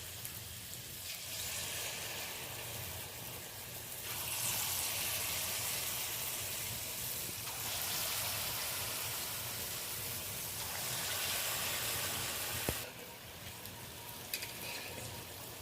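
Palm fritters (taler fuluri) frying in hot oil make a loud, dense, continuous bubbling sizzle that swells and eases as they are lightly stirred, with an occasional soft clink and no talking.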